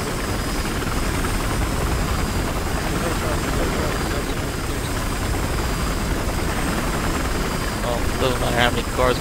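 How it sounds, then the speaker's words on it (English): Helicopter in the Battlefield Hardline video game, a steady whirring rotor and engine drone that runs loud and unbroken throughout while a player talks over it. "chopper's almost back up"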